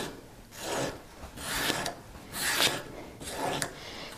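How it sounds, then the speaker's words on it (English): A Foredom anvil point rubbed on 30 micron sanding paper to remove oxide, a close, steady back-and-forth rasping in about five even strokes, moderately loud, with no talking. "I'm going to start just by knocking off this oxide that's on here"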